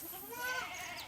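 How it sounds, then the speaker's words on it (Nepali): A goat bleats once in Nepal on the way from Kathmandu to Ramechhap, a short wavering cry that sounds close and fairly clear, with nobody speaking. "कति कराउँछ यो बाख्रा"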